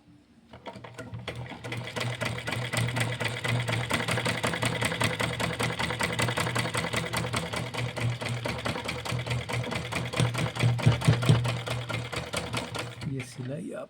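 A sewing machine stitches a cotton wrestling langot at home, its needle hammering in a fast, continuous rhythm for the whole stretch, close and steady, with faint talk in the background.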